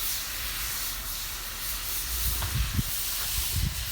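Shrimp hit hot oil in a pan and sizzle with a loud, steady hiss, broken by a few soft clicks and pops, close by with no talking.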